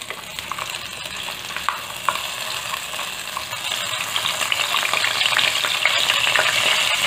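Spice paste for bhungla bateka hits hot oil over a lowered flame, a soft hiss that swells into a louder, denser sizzle over several seconds, heard up close with stirring and no speech.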